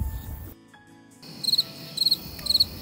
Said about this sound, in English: I think they're crickets.